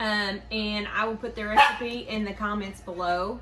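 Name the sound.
dogs barking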